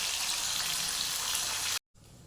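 Paneer coated in cornflour, maida and spices fries in hot oil, a dense, steady crackling sizzle that runs continuously before cutting out abruptly.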